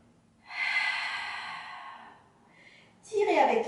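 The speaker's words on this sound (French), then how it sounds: "Inspire par le nez et soufflez." Slow breathing during an advanced exercise class: a long, steady exhale through the lips lasting over a second, a brief quieter breath, then a sharp, forceful blow-out, all close and clear with no talking.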